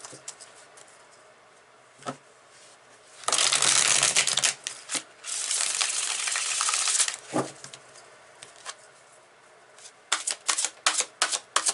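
A deck of tarot cards is shuffled in two long, loud bursts of riffling flutter, with a few lighter card taps and slaps between and after them in a quiet room.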